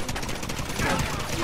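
A security camera turret in Quantum of Solace opens fire, a brief rattling burst of rapid automatic shots, close and harsh.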